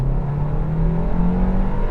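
A 2023 Hyundai Kona 1.6 T-GDI engine drones steadily from inside the cabin on kickdown, a low continuous hum with a faintly rising pitch as it pulls harder.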